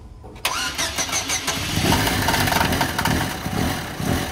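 A Chevrolet S10 truck engine fitted with nitrous cranks briefly and fires up, then settles into a loud, lumpy, uneven idle close by, with no one talking.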